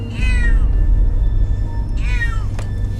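A cat gives two clear meows about two seconds apart, close by, over a steady low background rumble.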